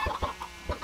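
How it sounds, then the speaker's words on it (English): Chickens cluck in short repeated bursts, several quick calls spaced across a brief moment, close and fairly clear with a slightly synthetic, game-like tone. "And now get some chickens in here."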